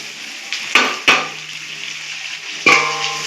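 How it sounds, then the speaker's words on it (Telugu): Chopped potatoes and tomatoes tipped into a pan of softened, salted onions for poori curry, landing in a few sharp clattering thumps with a brief sizzle over a low steady frying hiss. "ఇప్పుడు ఈ బంగాళదుంపలు టమాటాలు వేసేసుకుందాం."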